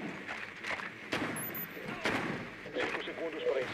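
Gunshots in the tactical shooter Rainbow Six Siege, a few sharp bursts spaced through the clip under game sounds and a talking player.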